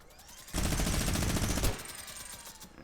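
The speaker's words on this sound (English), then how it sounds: "Pull out my minigun, and I'm just going to go ahead and just shoot the platform." A minigun in a video game fires one continuous loud burst of rapid shots at a platform, lasting about a second, between quieter game ambience.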